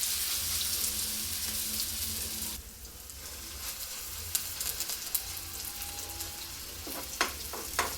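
Chilla batter made with dudhi (bottle gourd), curry leaves and sesame seeds is spread into a hot pan and fries with a steady close sizzle that drops and thins partway through, with a few light scraping clicks near the end.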